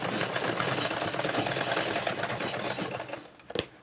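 A sewing machine runs steadily up close, topstitching a folded-in bias edge on corset fabric, a continuous whirring drone that slows and stops near the end with a couple of sharp clicks.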